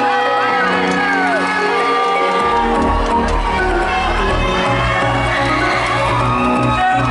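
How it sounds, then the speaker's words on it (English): A pageant audience cheers and claps for a contestant, loud crowd noise with whoops and shouts building and holding steady, music-like tones running underneath. "Let's give a big round of applause for Dr."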